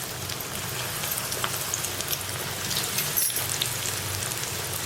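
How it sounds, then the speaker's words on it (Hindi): Bread slices frying in hot oil over medium heat, a steady, dense crackle and hiss that runs evenly throughout without pause. "तेल गरम है। अब हम ब्रेड को फ्राई करते हैं।"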